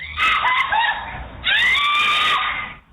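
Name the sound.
mother's piercing scream on surveillance video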